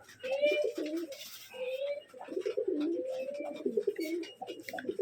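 Pigeons cooing in a loft with a biscuit-coloured hen among them, repeated soft throaty coos in close succession, mostly alone with only faint background noise.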